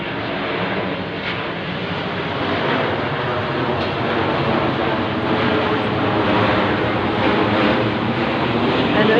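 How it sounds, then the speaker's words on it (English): Jet aircraft passing overhead, a loud steady broadband roar that swells slightly and holds throughout, with no talking. "Here comes a jet"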